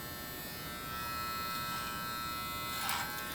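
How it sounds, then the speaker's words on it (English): Electric hair clippers buzz steadily close up while cutting hair with the clipper over comb technique, a constant electric hum with a brief brighter rasp near the end and no voices. "Come back and work in vertical sections with your clipper over comb technique."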